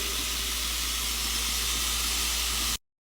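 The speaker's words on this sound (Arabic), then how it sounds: "في الصاج مرة ساخن نحط الدجاج، طبعا هنا قاعدين نسوي دجاجة تكة على الصاج" Chicken tikka pieces sizzle in oil on a very hot saj griddle, a steady loud hiss with dense crackle running without break before cutting to silence near the end.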